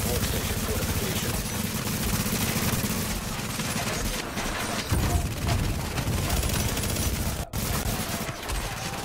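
Sustained gunfire aimed at a turret in The Division, dense automatic shots that run continuously under game noise and a brief voice, with a sharp single crack near the end.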